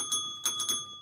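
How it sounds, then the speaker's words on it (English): A bright bell sound effect chimes three quick times, clear and clean, with soft background between strikes. "That's a bell."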